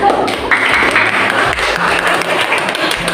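Students applauding in a classroom during a lesson, a loud, steady patter of many hands clapping at once, with faint voices and a few sustained tones underneath.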